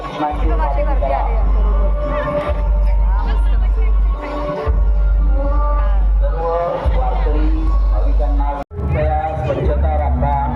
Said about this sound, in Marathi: खूप अशी गर्दी आहे